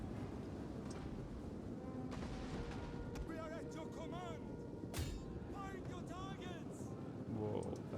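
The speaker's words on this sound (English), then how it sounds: "Close artillery support here." Artillery fire in the video game Total War: Attila booms and crackles beneath a dense battle din of clashing troops, with a sharp impact around the middle and someone talking throughout.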